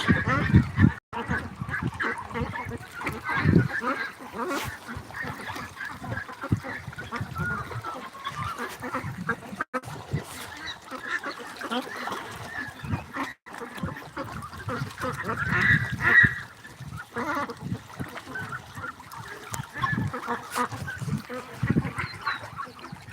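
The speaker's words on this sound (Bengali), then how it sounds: "পাশাপাশি হাঁসের খামার আছে দেখেন কতগুলো হাঁস" A flock of ducks at a farm in Satkhira quacks and honks in a dense, continuous chorus nearby, with a person talking at times among the birds.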